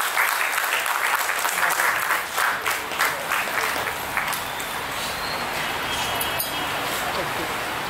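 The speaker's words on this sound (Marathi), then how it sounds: "जोरदार टाळ्या." Loud, sustained audience applause at a Marathi book launch event honouring a guest, dense steady clapping filling the whole stretch without a break.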